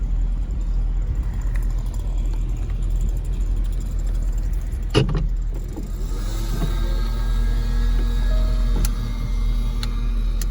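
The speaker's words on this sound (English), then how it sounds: "we'll go ahead and put the top up so you can see what it looks like with the top up" Power top of a 2016 Jaguar F-Type R convertible rising. A steady electric motor whine and mechanical movement begin partway through, with a brief clunk, over a constant low idling rumble from the car.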